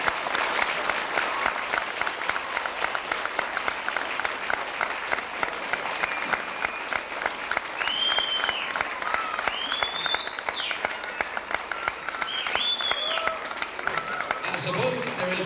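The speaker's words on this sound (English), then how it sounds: "give them a hearty applause" Sustained, dense applause from a community concert audience, steady crowd clapping throughout with occasional whoops and cheers rising above it.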